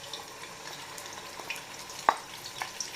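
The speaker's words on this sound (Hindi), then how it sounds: "ऑयल गर्म हो चुका है, अब इसमें हम ये पेस्ट डालते हैं।" Onion paste frying in hot oil in a home kitchen pan, a quiet, continuous sizzle with light stirring scrapes and one sharper clink midway.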